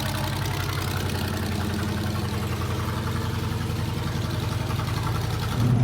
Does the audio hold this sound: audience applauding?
no